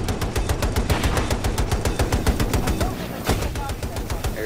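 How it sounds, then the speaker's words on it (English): Dense automatic gunfire in the shooter game Battlefield 2042, several weapons firing rapid overlapping bursts continuously, loud and close, with voices talking over the shooting. "everybody's shooting."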